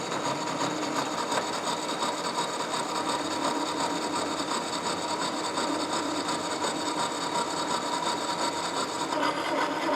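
A horizontal milling machine cuts a cast iron straight edge, giving a steady, loud, unbroken grinding and whirring roar that holds the whole time without pause.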